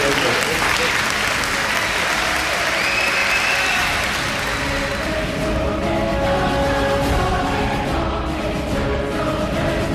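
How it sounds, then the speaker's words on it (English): Studio audience applause and crowd noise at a comedy show, loud and sustained throughout, with faint voices and cheers mixed into the clapping. "a round of applause for Ryan"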